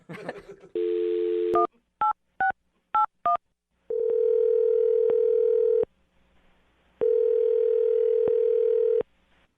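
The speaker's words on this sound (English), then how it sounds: "I'm going to dial the phone number right now" A telephone call being placed: a steady dial tone, then a quick series of keypad beeps as the number is dialed, followed by two long ringback tones separated by silence.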